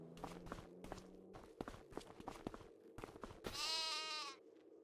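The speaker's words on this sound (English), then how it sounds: "Sheep and goats here." Footsteps crunch in an uneven rhythm among the sheep and goats in Farming Simulator 25, then a single loud, drawn-out bleat rings out near the end.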